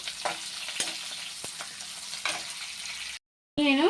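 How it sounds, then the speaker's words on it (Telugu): Onions frying in a pan with curry leaves and garlic, a steady sizzle broken by a few soft stirring scrapes, close and alone, cut off by a brief gap before a short burst of another sound. "ఆనియన్ కూడా వేసుకొని ఆనియన్ కొద్దిసేపు ఫ్రై చేసుకోవాలి"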